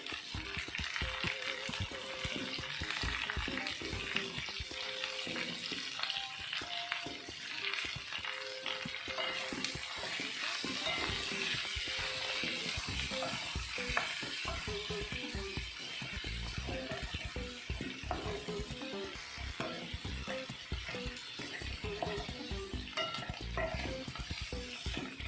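Okra seasoned with turmeric and salt sautés in an open pan over medium flame, a steady sizzle with scraping and stirring knocks throughout, loud and close, with no one speaking.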